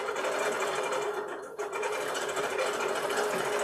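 Bernina sewing machine fitted with a bowl foot stitching steadily across a quilt, a fast continuous whirring hum with a brief dip partway through.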